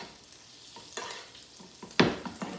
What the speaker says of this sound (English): I like to throw an extra little pat of butter right into the pan.